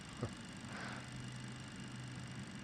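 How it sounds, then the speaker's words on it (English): MD-83 jet engines spool up during a cold-weather charter flight, a steady faint drone with a low tone that swells in partway through and holds. "You hear the engines just kick up a notch."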